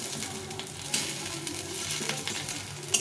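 Pieces of boiled egg frying in oil in a pan produce a continuous soft sizzle and crackle, with a couple of sharper spatters and light stirring touches.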